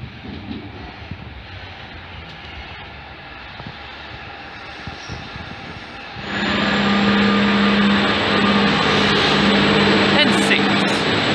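An N6 set Campbelltown service train arriving at platform 1 at Picton station, a steady low rumble that swells into a louder, sustained roar with a humming motor tone partway through.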